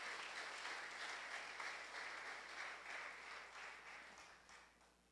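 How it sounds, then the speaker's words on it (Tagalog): Congregation applauding loudly at a Sunday church service, a dense, steady wash of clapping that carries on for several seconds and tapers slightly toward the end. "Malakas na palakpak sa Panginoon."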